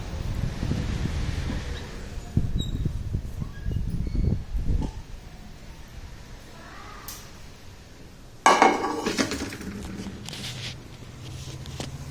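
Metal pots and vessels clink and clatter in a close, bright burst of rattling metallic knocks late on, after quieter rustling and handling sounds.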